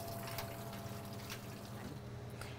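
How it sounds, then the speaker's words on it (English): A bar sink filling with water from a tap, a steady rushing trickle that runs throughout at low level with no voices over it. "And start filling up the water."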